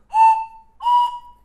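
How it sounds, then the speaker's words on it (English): A 3D-printed two-tone steam engine whistle is blown twice in short, clear, close tones, each dropping away cleanly, with silence between. "this steam engine whistle. So basically you have two whistles here, two tones, and they sound a little bit like this."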